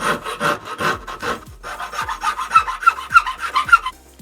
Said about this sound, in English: It's only a matter of rounding the edges with the rasped metal files until it feels good to hold in your hand.